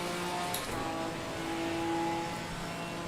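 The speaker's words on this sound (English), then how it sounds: "Look at the BMW arriving from behind" A BMW race car in a racing game closes in from behind, its engine a steady mid-pitched drone that swells slightly as it nears, with other cars' engine tones layered underneath.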